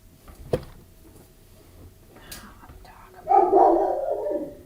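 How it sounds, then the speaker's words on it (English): Dog barking indoors, a single sharp bark early, then a louder burst of yipping, howling barks near the end, close and clear over a quiet room. "Oh, Francis, I need to get that dog down here."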